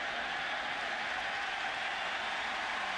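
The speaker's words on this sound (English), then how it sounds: "And the crowd approves." A college football stadium crowd at a West Virginia versus Maryland game applauds and cheers, a dense, steady wash of clapping and crowd noise filling the whole stretch.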